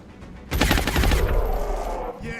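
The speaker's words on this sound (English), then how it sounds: "everybody tune your ears in for the wonderful, beautiful sound of Gauss. And fire away." Gauss weapons firing in the XCOM Long War video game: a sudden loud burst of rapid crackling shots that stays dense for about a second, then trails off into a ringing electronic tail.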